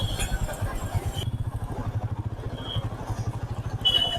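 A motorcycle engine idles or runs at low speed on a test ride, giving a close, steady low putter with some light clatter. It is fairly quiet, with no speech.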